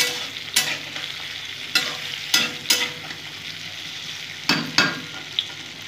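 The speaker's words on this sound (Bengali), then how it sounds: "আবার নেড়ে নেব।" Potato and tomato curry is stirred in a pan, a soft steady sizzle punctuated by about eight sharp spoon scrapes and clacks at irregular intervals, close and with no one talking.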